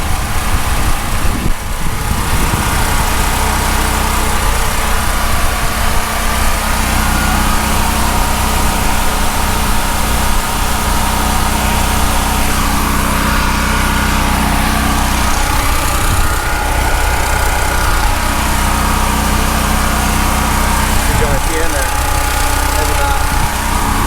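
A Costco Firman 7571 generator runs steadily inside a shed, a loud continuous engine drone with wind noise mixed in, while someone talks over it throughout.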